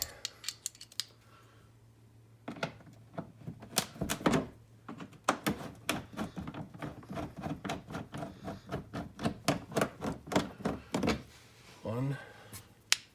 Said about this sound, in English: Take out 3 screws.